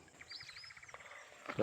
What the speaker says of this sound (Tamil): பறவை